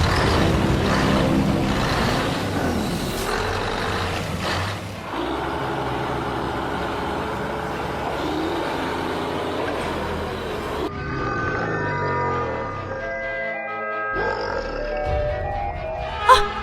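A video-game monster truck rumbles heavily with a deep engine drone and blaring horn-like tones, shifting through several loud mechanical segments with no talking over it.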